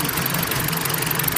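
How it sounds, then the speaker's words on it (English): Rebuilt BMW E46 3 Series engine running outdoors in snow, a steady close idle with a continuous low rumble and a faint ticking knock throughout. "Engine work. Built engine."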